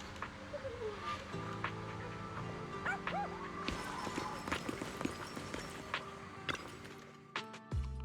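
A puppy in the video game Zenless Zone Zero yips and barks in short, high bursts with small whimpers between them, close and clear, set over soft game music and light footsteps.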